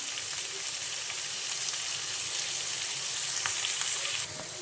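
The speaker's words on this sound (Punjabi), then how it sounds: "ਇਸ ਤਰੀਕੇ ਨਾਲ ਆਪਾਂ ਹਲਕਾ ਹਲਕਾ ਸਾਰੀਆਂ ਸਬਜ਼ੀਆਂ ਨੂੰ ਇਹਨਾਂ ਨੂੰ ਭੁੰਨ ਲੈਣਾਗਾ" Vegetables sauté in a pan for a Punjabi seviyan dish, giving a steady, even sizzle of frying that stays loud and continuous throughout, with faint stirring ticks under it.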